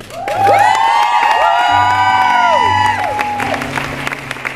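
Concert crowd at a small club show clapping and cheering with whoops and shouts, a loud, sustained burst of applause with high whistles and yells rising over it for several seconds.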